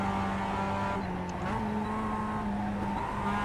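Mazda MX-5 Cup race car engine in the iRacing sim at Charlotte Motor Speedway's Roval, a steady droning buzz held through the clip with a small pitch change midway, loud and continuous, no talking.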